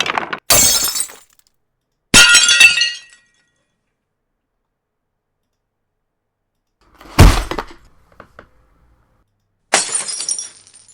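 A glass-breaking sound effect plays four separate times. Each sharp crash is followed by tinkling shards, and long silences fall between the bursts.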